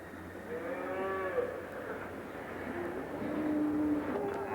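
Cattle mooing in a long, drawn-out low call, followed by a second moo a few seconds later, both fairly near over a steady rural background hum.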